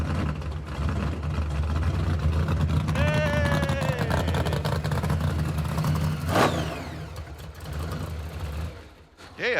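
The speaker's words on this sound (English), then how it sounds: "Trying to get it started now with the new old throttle body." A 1970 Dodge Super Bee, fitted with an old-school Hilborn cast throttle body, is brought to life. A steady low engine rumble runs throughout, with a rising-and-falling whine midway and a sharp burst near the end.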